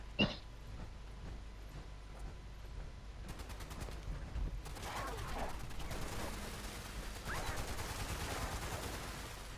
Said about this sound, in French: tir croisé, s'il vous plaît